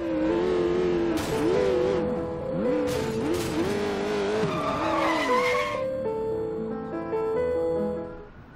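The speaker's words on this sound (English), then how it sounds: "Oh man, supercar!" A supercar in the Sleeping Dogs video game drives hard, its engine revving and shifting while tires squeal and skid repeatedly, loud and close, before the engine settles into a steadier drone.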